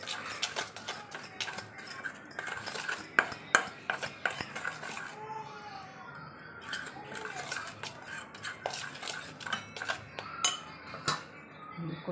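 Batter being whisked and stirred in a bowl for kadhi pakoras, with a steady run of quick scraping clinks of a spoon against the bowl, close and fairly soft, a few louder knocks standing out.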